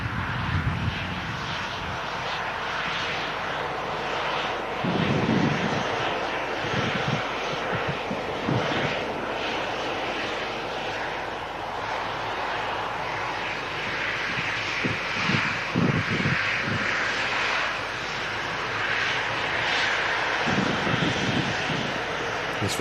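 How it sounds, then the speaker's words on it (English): A Ryanair airliner arriving from Vienna drones loudly and steadily overhead, its broad engine roar filling the scene with wind buffeting the microphone now and then. "This Ryanair in from Vienna as well."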